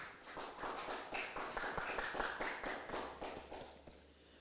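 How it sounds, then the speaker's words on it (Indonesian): A church congregation claps during a Sunday worship service, a faint, uneven patter of hands that comes in scattered bursts at a distance. "Berikan tepuk tangan buat Yesus."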